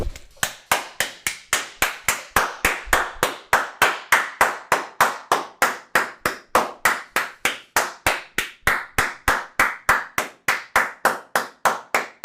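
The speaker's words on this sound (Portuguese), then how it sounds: "Eu vou bater palmas pra isso aqui" A single person claps hands in a steady, even rhythm of roughly forty sharp claps, loud and close, with no talking.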